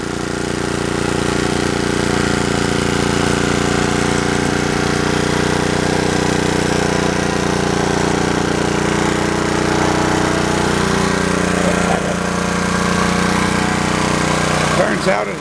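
A Model 8 engine fitted with a low tone muffler runs continuously at a steady idle, loud and close, with a constant droning chug that holds throughout.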